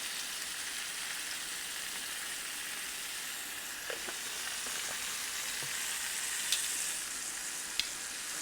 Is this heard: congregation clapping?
no